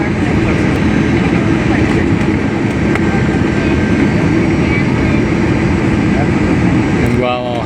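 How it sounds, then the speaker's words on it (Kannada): A low-flying airplane passes over a coastal city near a stadium, producing a loud, steady, broadband engine roar that stays constant throughout, with a faint high chirp near the end. "ವಿಮಾನ ಸಿಟಿ ಒಳಗೆ ಬಂತಲ್ರಿ ಈಗ ಇಷ್ಟೊತ್ತು ಆಚೆ ಕಡೆಗೆ ಇತ್ತು"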